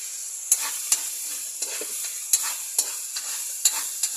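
A stir-fry with oyster sauce is stirred in a pan, with sharp utensil scrapes landing roughly every half second over a soft, steady sizzle, close up and with no talking.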